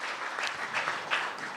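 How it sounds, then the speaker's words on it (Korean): Audience applause at a Buddhist lecture gathering welcoming a choir conductor, a steady wash of many hands clapping throughout, moderately loud and continuous. "박수 한번 부탁드리겠습니다"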